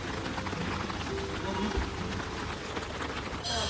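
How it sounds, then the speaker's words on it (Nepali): Steady rain falling and pattering on surfaces outdoors during a sister's wedding festivities, a continuous even wash of noise at fairly close range. "यस्तो पानी पर्दैछ।"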